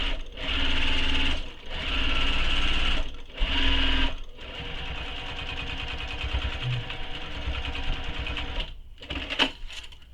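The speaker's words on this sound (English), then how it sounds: "Now I'm going to go over that stitching one more time just for extra security." A sewing machine whirs loudly up close in several short bursts followed by a longer continuous run, restitching over a seam on a handbag for extra security.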